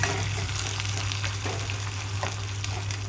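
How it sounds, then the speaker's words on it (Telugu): Onions and green chillies fry in a pan for a mango and amaranth dal, a continuous close crackling sizzle with occasional stirring scrapes and a low steady hum, with no voices. "ఉల్లిపాయలు పచ్చిమిరపకాయలు వేస్తున్నాను ఇప్పుడు ఉల్లిపాయలు పచ్చిమిరపకాయలు కొంచెం వేగాలి"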